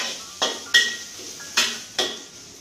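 Stir frying dried shrimp belacan with pumpkin in a wok, a metal spatula scraping and knocking against the pan in four sharp clanks over a steady sizzle.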